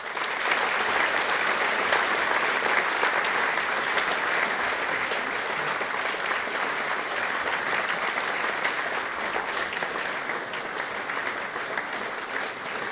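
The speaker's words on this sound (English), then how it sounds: "I better keep clapping until he gets to the end." Sustained audience applause following an evening lecture, a dense steady wash of many hands clapping that holds loud and even for the whole stretch, fading only slightly near the end.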